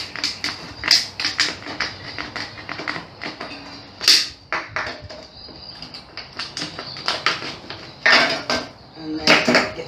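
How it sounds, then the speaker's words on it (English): A Stanley trimmer utility knife cuts into a plastic pool water test gadget, giving close, irregular clicks, snaps and scraping taps in uneven bursts, some sharp and loud, with no talk. "I'm going to start it off with the Stanley trimmer."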